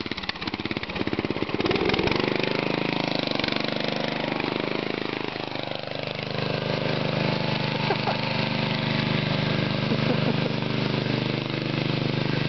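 A homemade all-terrain lawn mower's small engine runs continuously up close, a loud buzzing drone that rises and falls as the throttle opens, with voices briefly audible over it.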